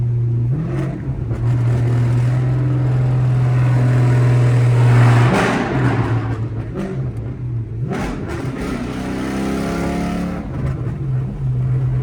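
A catless straight-piped Chrysler 300C exhaust drones loud and steady from inside the car, swelling into hard revs around the middle and again near the end, with a raspy, booming tone and no talking.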